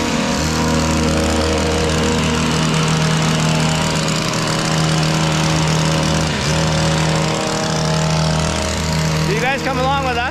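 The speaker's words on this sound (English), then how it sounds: "We'll show you guys a bit what it's like trimming a cedar hedge" A powered trimmer cutting a cedar hedge in town in Windsor, Quebec, gives a loud, steady engine drone that runs without pause for the whole stretch.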